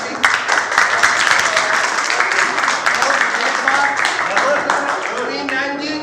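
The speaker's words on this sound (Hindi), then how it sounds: "एक बार अपने गांव के नाम पे आप लोग ताली बजाओ सभी।" Villagers of Chanarthal clap for their village at a gathering about the Atal Bhujal groundwater scheme, a dense, loud, steady wash of many hands that carries on for several seconds before easing slightly at the end.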